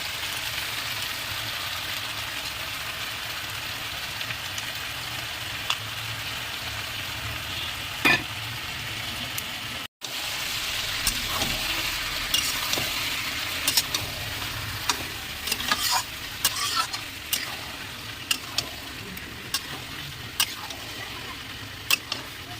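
Chicken sizzles in a pan with a ground paste of onion, garlic, ginger, cumin and chili, a continuous frying hiss with sharp stirring scrapes growing busier toward the end, no speech.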